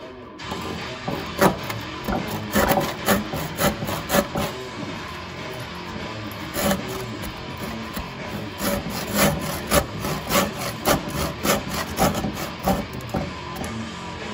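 Wood is trimmed by hand for a guitar rack build, producing close, loud rhythmic rasping strokes that repeat steadily through the whole stretch with no talk.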